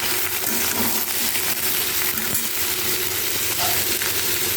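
Crushed garlic and chopped onion fry with salt and turmeric in a pan for a fish curry, giving a steady, close, dense sizzle with faint scraping and small clinks throughout, no voices.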